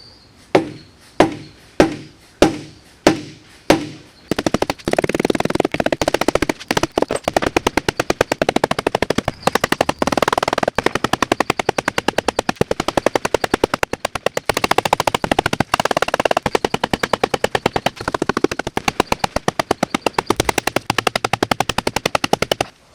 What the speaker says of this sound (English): many swings of the dead blow later